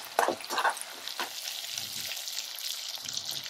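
A large tomato cooks in a pan with ginger and chilli, giving a soft, even sizzle after a few quick stirring scrapes at the start. The sound is close and fairly quiet, with no voices.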